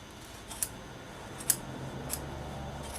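Scissors snip wool fuzz on sheepskin for saddle lacing, three sharp close cuts spaced unevenly over a quiet background.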